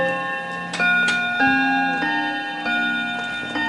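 A vintage wood-cased Smiths Enfield mantel clock strikes its Westminster chime: a sequence of clear, ringing bell-like notes, each struck close and sustained, overlapping as they decay, with no voices.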